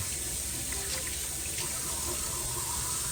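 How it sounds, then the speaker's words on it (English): Tap water runs steadily into a sink while hands are rinsed under it, a continuous close splashing gush with no pauses. "And then I'll rinse after 20 seconds."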